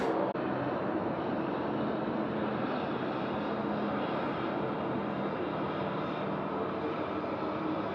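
A large airliner approaches Sydney Airport at night, its engines a steady, continuous roar that fills the air without letting up.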